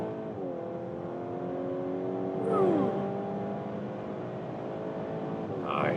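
A VW Golf R Black Edition facelift in race mode accelerates hard, its engine note climbing steadily through the gears with a brief shift dip midway, heard from inside the cabin amid road and wind noise, with no talking.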